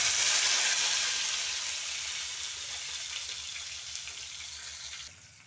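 Sliced onion sizzles steadily in hot oil in a pan for bitter gourd curry, a loud, continuous close frying hiss that eases slightly over time with no talking.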